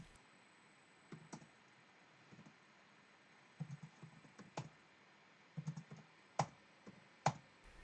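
Quiet clicks of a computer keyboard entering a short command on a homebuilt CPU system, a few scattered keystrokes in small clusters with one or two firmer presses near the end, faint room hiss behind.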